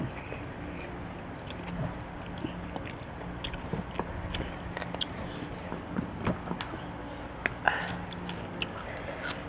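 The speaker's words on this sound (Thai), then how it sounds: "ซดน้ำนัวก่อนนะครับ" Close-up eating of a spicy Thai salad, with repeated wet crunches, bites and mouth noises scattered irregularly over a quiet background, growing busier toward the end.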